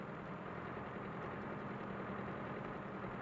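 A Ford 7000 tractor engine runs at low speed as the tractor creeps forward with a dead weight attached at the rear, a faint, steady low rumble throughout.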